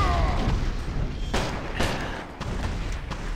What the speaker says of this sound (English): Stop shooting me with the cannon.